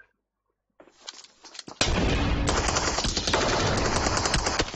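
Gunfire from a double-barrel shotgun in PUBG Mobile comes after a second of near silence, with a few sharp shots and then a dense, loud barrage of rapid firing and blasts that keeps going.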